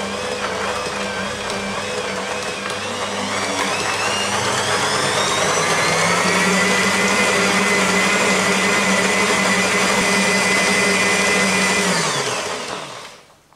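A stand mixer kneads bread dough at high speed, a loud steady motor whine with a rising pitch that holds for about twelve seconds and then winds down abruptly at the end.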